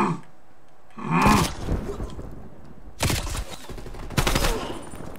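Sniper fire rings out in a shooter video game, a few sharp loud shots in separate bursts with echoing tails, spaced across a few seconds.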